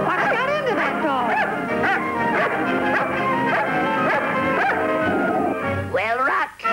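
Cartoon dog growling and barking in a Felix the Cat episode, busy yips and whimpering barks over constant background music and sound effects, with a brief louder growl-like burst near the end.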